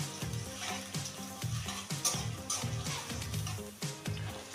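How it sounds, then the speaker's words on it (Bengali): Chopped onion and garlic fry in oil in a wok, a close, steady sizzle broken by repeated rhythmic stirring scrapes at a soft overall level. "হালকা করে ভেজে নেব"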